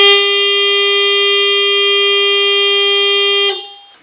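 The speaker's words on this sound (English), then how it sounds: "if the car were to honk while being stationary, the sound would be at a constant pitch." A stationary car horn blares at one constant pitch, loud and steady for about three and a half seconds before cutting off abruptly into a fading tail, with no voices.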